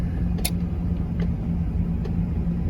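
A Ford Expedition is driven around the block after a transmission fluid and filter change, giving a steady, low road rumble and engine hum from inside the cabin with no talking.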